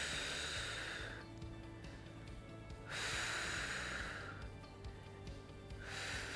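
Audible exhales and inhales during a seated resistance band exercise, with two long, breathy hisses, each about a second and a half, close to the mic, separated by quieter stretches.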